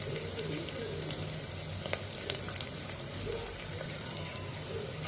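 Green chillies fry in hot oil for a chutney with a steady, dense sizzle and crackle that holds evenly throughout, with no talking.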